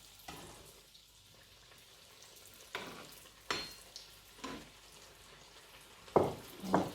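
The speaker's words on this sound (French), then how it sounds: "Je reprends pour tourner, sinon ça brûle." Choux pastry dough being stirred in a hot pan, a soft steady sizzle with several sharper scraping strokes of the spoon, the louder ones coming near the end.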